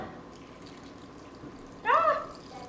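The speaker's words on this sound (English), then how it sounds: "Pour the broth over." Broth poured over a bowl of Indonesian bakso meatballs with greens and garlic, a short close splash of liquid near the end over a quiet room background.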